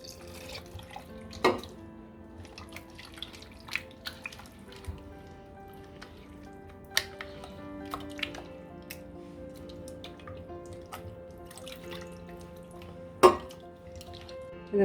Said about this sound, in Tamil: இப்போ கொஞ்சம் கொஞ்சமாக தண்ணி ஊற்றி கலந்துடலாம்